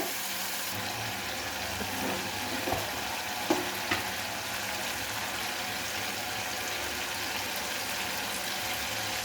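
Cumin, onion and tomato frying in a pan for a ridge gourd curry: a steady close sizzle runs throughout, with a few light clinks from stirring and no talking.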